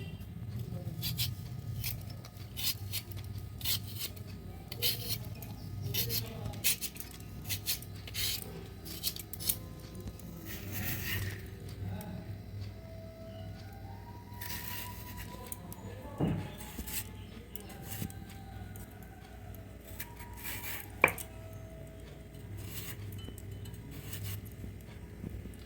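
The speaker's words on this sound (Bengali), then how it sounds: "আলুটা ছাড়িয়ে কেটে নেবো।" Potato being peeled and cut by hand in a home kitchen for a Bengali potol chingri dish, with repeated short scraping and slicing strokes close up over a steady low background hum.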